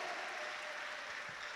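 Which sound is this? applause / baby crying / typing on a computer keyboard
applause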